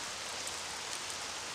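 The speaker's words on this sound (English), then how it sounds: "Look, it's raining." Steady rain falling, an even hissing wash of drops with no breaks, moderately quiet and heard alone without voices.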